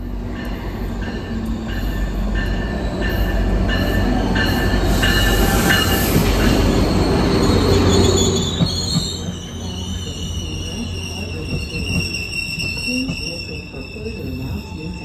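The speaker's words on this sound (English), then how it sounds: "Our train, number 1856, was led by an MP40PH-3C locomotive built by American company Motive Power in 2010." A Toronto GO Transit commuter train led by an MP40PH-3C locomotive rumbles past with rising and falling wheel roar and high metallic squeals, loud at first, then fading as it moves away.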